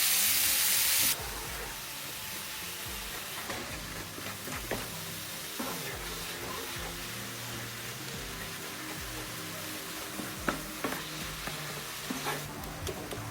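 Lean ground beef fries in a pan with a steady crackling sizzle and hiss, a few sharp clinks of a utensil, and a faint low hum underneath; no one speaks.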